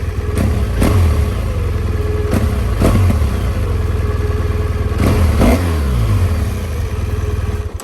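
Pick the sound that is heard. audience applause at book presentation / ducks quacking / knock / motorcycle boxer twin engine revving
motorcycle boxer twin engine revving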